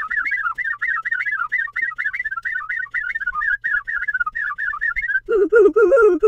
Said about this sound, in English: I'm out of breath from singing and humming and whistling that whole time.